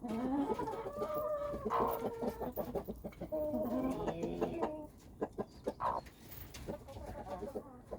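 Two-day-old baby chicks peep and cheep close by in a repeated series of short chirping calls, some brief pauses breaking up the chatter.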